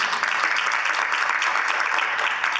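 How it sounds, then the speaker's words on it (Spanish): A church congregation applauds loudly and steadily after a prayer, a dense continuous wash of clapping that stays even throughout with no break. "Dale bien fuerte ese aplauso a Jesús."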